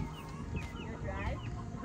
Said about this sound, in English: So I have chickens that were born in the barn